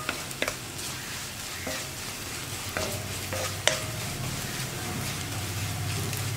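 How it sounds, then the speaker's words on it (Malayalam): Chili powder fries in very hot oil for an egg mezhukkupuratti as a spoon stirs it, giving a continuous sizzle with scraping clicks from the stirring, all close and with no talking. "നല്ല ചൂടെണ്ണ ആയതുകൊണ്ട് തന്നെ വേഗം തന്നെ മുളക് കുക്കായി വരും."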